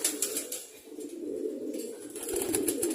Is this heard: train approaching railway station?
no